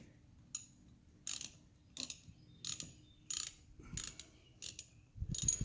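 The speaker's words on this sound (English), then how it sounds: "And snug her down." Ratchet socket snugging down a QuikStem tire valve stem nut, heard as eight short, bright ratcheting bursts at a steady rhythm, close and clear with no talk.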